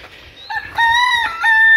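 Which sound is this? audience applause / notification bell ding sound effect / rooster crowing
rooster crowing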